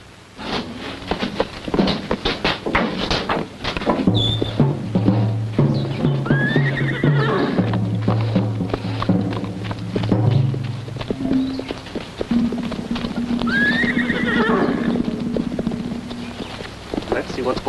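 Horses whinny loudly several times over steady clip-clopping hooves, with people talking in the background.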